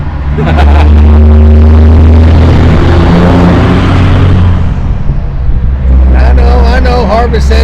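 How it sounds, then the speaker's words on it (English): A loud truck passes close outside during a home podcast recording, its deep engine rumble and broad roar swelling and filling the room for several seconds while people talk over it. "I think that truck was extra loud though too."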